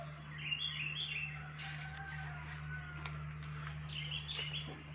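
A white-rumped shama (magpie robin) calls in bright, whistled chirping phrases, near and clear, over a steady low electrical hum from a lamp in an otherwise quiet space before dawn.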